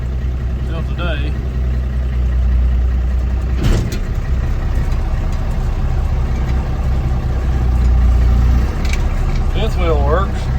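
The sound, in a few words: truck engine running while hooking up trailer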